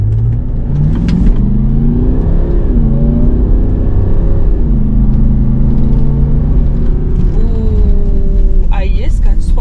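A Range Rover Vogue Autobiography in sport mode accelerating hard from inside the cabin, the engine note climbing through several rising sweeps between shifts, loud and continuous, with a voice briefly at the end.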